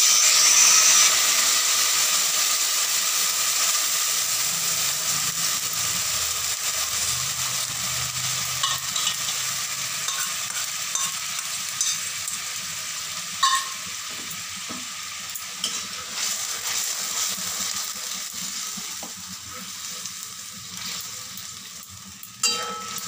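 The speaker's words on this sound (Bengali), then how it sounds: "ফোড়নটা ফ্রাই হয়ে যাবার পর ম্যারিনেট করে রাখা মাছগুলো দিয়ে দেব।" Marinated rohu fish frying in hot oil with bay leaves and crushed whole spices, a steady broadband sizzle throughout with occasional soft pops and scrapes, close and continuous, no talk.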